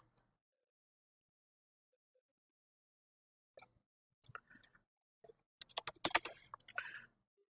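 Keystrokes on a computer keyboard follow a long silence. A few isolated taps come first, then a quick, close flurry of typing in a quiet room.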